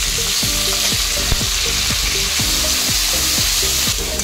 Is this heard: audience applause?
no